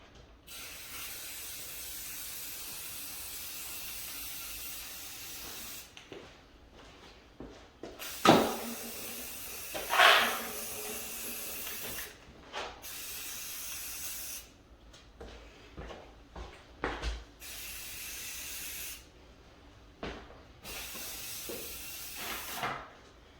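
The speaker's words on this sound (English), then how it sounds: "I start off with a full coat of Army Green, of the Rustoleum Army Green" Rustoleum Army Green spray paint hissing from an aerosol can onto a rifle, long steady bursts broken by short pauses and a few louder clicks and knocks nearby.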